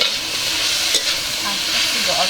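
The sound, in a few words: stirring cabbage curry paste frying in a pan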